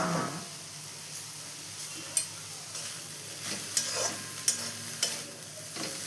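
Ponnaganti greens are stirred in a pan, with a handful of short scraping and tapping strokes of a spoon over a low background sizzle, close and fairly quiet.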